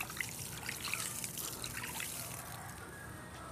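Liquid fertilizer trickling steadily from a one-liter container onto rice husk charcoal, a soft continuous dribbling stream heard close up, fading slightly toward the end, with no talk.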